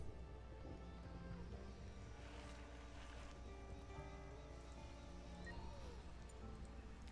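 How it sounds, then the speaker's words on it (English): Steady rain in the survival video game Stranded Alien Dawn, a soft continuous wash of drops with a low constant rumble beneath, faint and even throughout with no speech. "Just rain."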